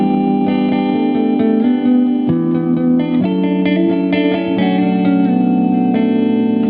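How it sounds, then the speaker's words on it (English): Several electric guitar parts layered together in a vintage soul style, with strummed chords, picked lines and small melodies blending under reverb and chorus, steady and full throughout with no talking. "So all of the guitars together sound like this."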